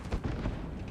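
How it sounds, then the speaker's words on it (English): A grenade going off in a Starfield firefight, a short deep boom with rumbling low-end tail, fairly close and alone. "Oh, grenade."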